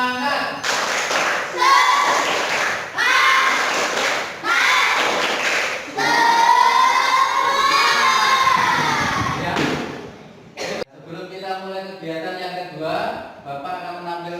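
Schoolchildren in a classroom perform a loud 'tepuk semangat' clapping chant, shouting rhythmic words over bursts of clapping and thumps, continuous and energetic, ending with a brief pause and more chanting voices.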